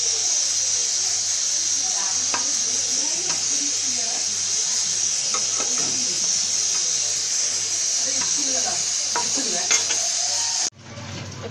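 Arum vada frying in oil over a low gas flame, a dense, even hiss and sizzle holding steady for about ten seconds with occasional faint pops and scrapes, cutting off abruptly near the end, with a voice talking over it.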